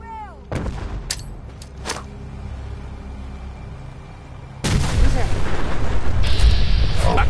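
Gunfire in a Fallout 4 battle: a few sharp shots ring out early, then a heavy, continuous barrage of booming shots erupts partway through and keeps going loudly to the end.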